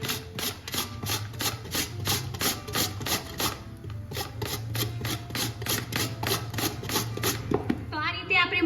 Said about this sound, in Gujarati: મૂળો લીધો છે જેને આપણે આ રીતે છીણીમાં છીણી લઈશું